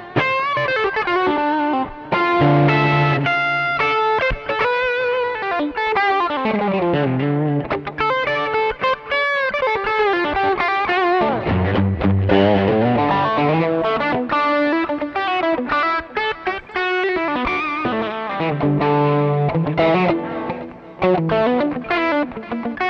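Gecko GE 101 Stratocaster electric guitar in transparent blue, played through overdrive distortion: loud, sustained crunchy chords and riffs with a shimmering effects-unit sheen, continuous throughout with no talking.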